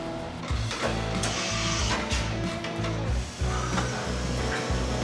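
A CNC mill machines custom-made soft jaws, spot-facing each hole: a steady, loud mechanical whir with rhythmic low-end pulses and bright cutting noise running throughout, no voices.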